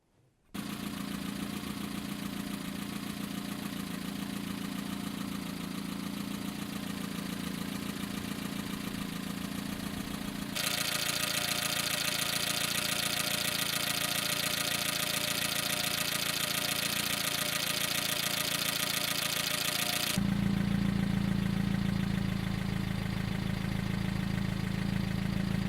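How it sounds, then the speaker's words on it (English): A car engine idles steadily, captured at the exhaust and in the open engine bay: a continuous, even mechanical hum and rumble with a faint knocking texture, shifting in tone between mic positions, with no voices. "I'm going to pop the bonnet and get sounds from the front, like of the engine, looking in at the engine"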